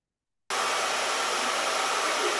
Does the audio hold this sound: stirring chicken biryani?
no